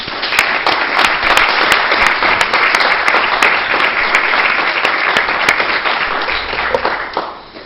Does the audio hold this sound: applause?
yes